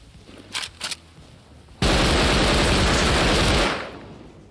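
Sustained automatic gunfire from the video game Rust, a loud dense burst lasting about two seconds that cuts in abruptly and then fades, preceded by two brief faint pops.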